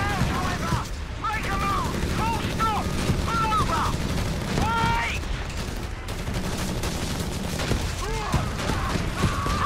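Machine gun fire from two MGs in Company of Heroes 3, heard as loud, continuous rattling bursts mixed with booms and other battle effects, with voices underneath.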